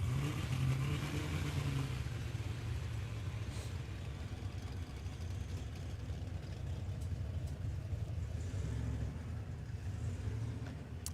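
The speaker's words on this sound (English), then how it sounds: "Jason Sang spinning the tyres viciously off the start line" A no-prep drag racing car at Warwick Dragway, Australia, roars off the start line with its tyres spinning, a sustained, rough engine drone heard from a distance for several seconds.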